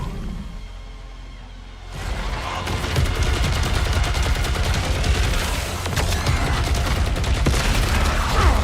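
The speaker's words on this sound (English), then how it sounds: "Tactical rifle, there it is." Dense tactical rifle gunfire in the game Saros, a loud sustained stream of rapid shots that starts abruptly after a quieter lead-in and keeps going to the end amid booms and whooshes.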